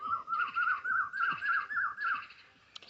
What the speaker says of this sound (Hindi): राम को कथा सुन के कोयल बहुत खुश है।